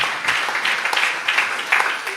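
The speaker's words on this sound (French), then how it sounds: "On peut applaudir pour l'intervention de nos panélistes." Audience at a French-language panel Q&A session applauding the panelists, a short burst of scattered hand clapping at moderate volume that carries on evenly for a couple of seconds.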